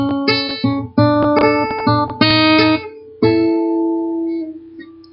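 Electric guitar playing a blues turnaround: several short phrases of plucked notes and chords with clear gaps between them, ending on a sustained ringing chord, close and clean with no talk.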